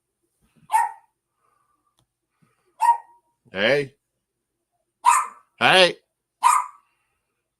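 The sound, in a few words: dog barking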